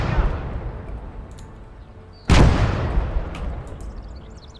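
Mortar barrage in the Gates of Hell war game: a rumbling battlefield bed broken by one loud, sharp impact blast midway, with a lingering rolling roar and faint distant pops afterward.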